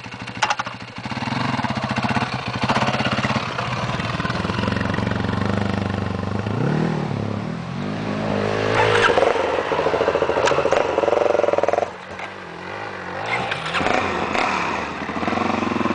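A motorcycle climbs a hill in the Glasshouse Mountains, its engine close and loud, revving and rising in pitch around the middle before easing back to a lower rumble.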